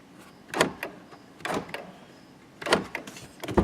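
Several short mechanical clunks and whirs of a Jeep Grand Cherokee's power door locks actuating after a wiring repair, arriving in separated bursts with quiet gaps between.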